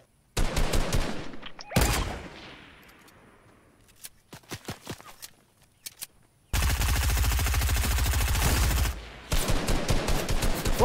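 Rapid bursts of automatic gunfire in the Fortnite video game: scattered shots, then a long sustained volley and another stretch of firing, loud and close, with no talk.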